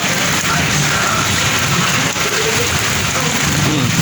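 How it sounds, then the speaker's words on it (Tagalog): Steady, heavy rain makes a dense, loud hiss that fills the whole stretch without a break, alone and close by with no voices. "Kahapon pa yung ulan na yun eh."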